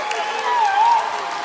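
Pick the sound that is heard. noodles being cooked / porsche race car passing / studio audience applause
studio audience applause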